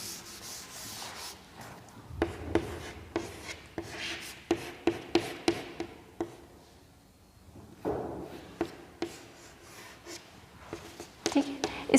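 Rubbing strokes erasing a classroom board during a chemistry lesson, a dozen or so scratchy swipes in bursts, fairly close, with a quieter pause midway and speech around them.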